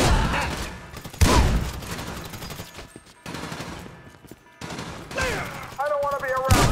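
Rapid bursts of automatic gunfire in the video game GTA 5, loud and dense with short gaps, mixed with shouted voices and a few bright electronic chirps.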